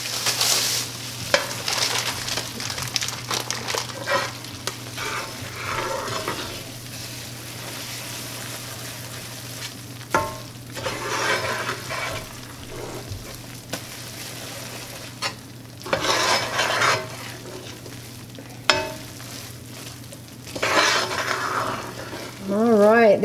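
Steady sizzling and frying as vanilla hits hot English toffee in a pan, with a spoon scraping and stirring through it in bursts over the whole stretch.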